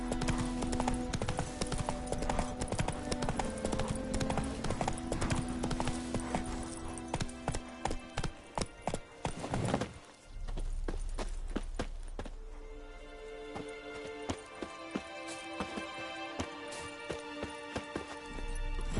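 Horse hooves clip-clop at a gallop across ground in The Witcher video game, a fast rhythmic pounding that slows and breaks off briefly before resuming at a slower, sparser pace.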